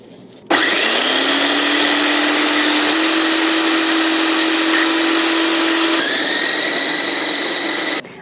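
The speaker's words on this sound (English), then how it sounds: "first we'll put the greens into the blender" A kitchen blender whirs loudly and steadily for about seven and a half seconds while blending greens for pesto, its motor pitch shifting slightly partway through as the load changes.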